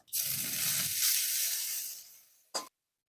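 Dried red chili, a bay leaf and whole cumin seeds hitting a little hot oil give a loud, steady sizzle lasting over two seconds, then a brief sharp burst of crackle before it cuts off.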